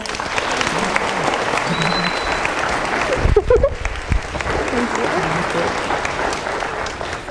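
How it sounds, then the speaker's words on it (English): Conference audience giving a sustained round of applause in a hall, steady dense clapping throughout, with a brief louder clatter of handling noise near the middle. "So let's give one more round of applause."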